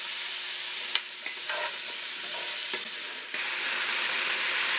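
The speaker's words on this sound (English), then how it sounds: "Just periodically lifting the lid and giving this a stir." Stew of carrots and mushrooms stirred in a pot with the lid lifted, a steady sizzling bubble underneath, with a few clinks and scrapes of the spoon against the pot.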